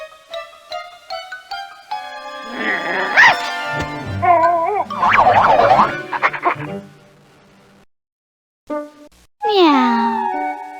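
A cartoon cat meows in the 1995 PC game Lamb Chop Loves Music, with a few rising, wavering cries near the end following bright, synthesized musical notes and busy game sounds.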